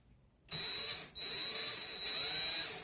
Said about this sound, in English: I'm going to put my drill in the forward motion and just twist.